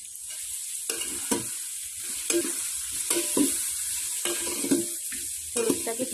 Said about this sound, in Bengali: হলুদটাকে পুরো মশলার সঙ্গে মিশবো